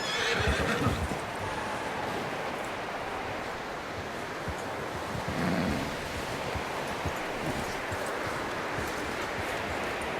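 The horse Taima neighs and shifts its hooves while being hitched outdoors in Red Dead Redemption 2, a whinny over soft clip-clop with wind and distant surf in the background.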